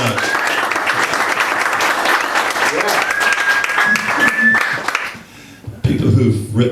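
Audience applause for a song at an award event, with sustained dense clapping and voices over it, then fading into a brief lull before a louder burst of sound at the end.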